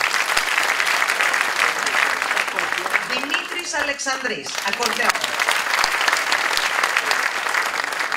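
Concert audience applauds steadily as band members are introduced one by one, a dense wash of clapping that runs throughout while a voice announces over it.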